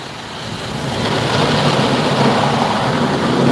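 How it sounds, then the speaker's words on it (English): High-pressure spray at a truck wash blasts against a truck, a loud, dense, continuous hiss-and-roar that swells over the first second and then holds steady, with no talk. "I'm in the truck wash."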